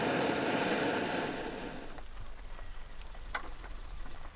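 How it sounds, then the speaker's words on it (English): Rain patters down at a campsite in the Yukon and Northwest Territories, a fairly loud hiss at first that thins out after a couple of seconds, leaving faint scattered drops. "Because a new cloud of rain came by."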